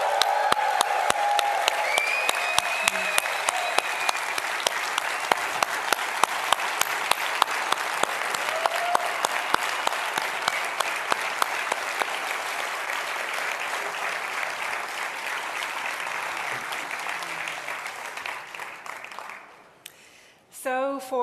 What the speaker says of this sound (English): let's raise the roof. A big round of applause.